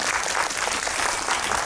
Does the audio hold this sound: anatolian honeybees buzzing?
no